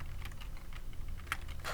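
Typing on a computer keyboard, a quick run of light irregular key clicks close to the mic over a low steady background hum, with no talk.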